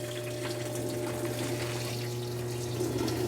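A GE Hydrowave top-load washer agitating during its wash cycle, with a steady low mechanical hum and churning water running continuously at close range.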